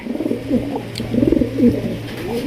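High-flying giribaz pigeons coo close by in soft, rolling bursts, several calls in a row over a low background hum.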